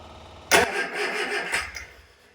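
An old car engine on Weber carburettors, with a sticking Bendix on the starter, turns over with a sharp burst and coughs unevenly for a couple of seconds before fading without catching.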